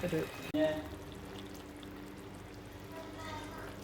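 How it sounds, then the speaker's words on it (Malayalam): Water poured into onion curry (ulli theeyal) simmering in a pan, a short splash near the start, then a soft steady sizzle and bubbling. "ഇതിലേക്ക് നമ്മൾ കുറച്ച് വെള്ളം ഒഴിച്ച് കൊടുക്കുന്നുണ്ട്."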